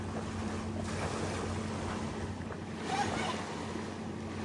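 Gentle waves of the Arabian Sea, a continuous soft wash of surf and wind with a slight swell partway through, heard from on or near the water.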